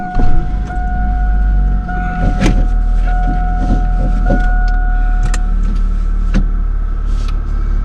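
Car interior during a short ride of a couple of blocks, with a steady low engine and road rumble, tonal hums and several sharp clicks and knocks, fairly loud and continuous with no talk.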